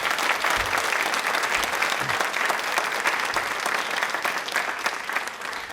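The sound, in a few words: applause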